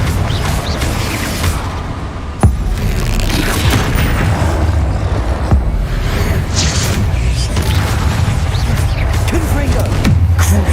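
Confringo fire spell blasts from Hogwarts Legacy on Hard Mode, loud booming impacts over a dense, continuous battle din with sharp hits and crashes throughout.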